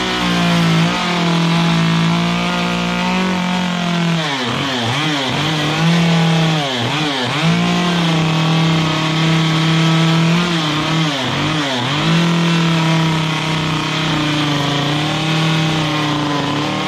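A chainsaw carving a simple bear head from wood, loud and close, idling steadily and then revving up and down repeatedly as it bites into the block, with no talking.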